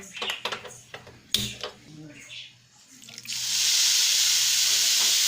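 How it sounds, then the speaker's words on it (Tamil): Water poured onto sugar in a pan for coconut burfi syrup, a steady loud rushing pour in the second half after clinks of utensils and dishes. "இப்போ சர்க்கரை மூழ்கிற அளவுக்கு நீங்கள் தண்ணி சேர்த்தீங்கன்னா போதும்."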